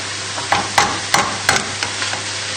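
Chicken pieces sealed and frying in a pan are stirred with a utensil, giving about six or seven rhythmic scraping strokes over a constant sizzle close by.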